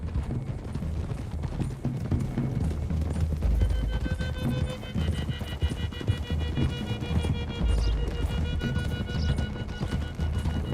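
Horses galloping in Red Dead Redemption 2, a group of riders moving uphill through the hills, with steady clip-clop hoofbeats over a low rumbling bed and faint neighs, continuous and fairly close throughout.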